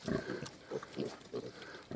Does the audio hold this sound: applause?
no